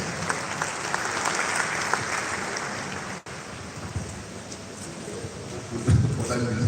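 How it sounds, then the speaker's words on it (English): A hall of professionals at a continuing professional development session claps for the chairman. The applause is steady and fairly close, like rain, and a voice begins speaking near the end. "A warm round of applause for him, please."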